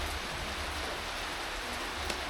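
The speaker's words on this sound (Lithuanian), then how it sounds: "lyja stipriai." Steady downpour of heavy winter rain in North Macedonia, a constant broadband wash of drops heard close by, unchanging from start to finish.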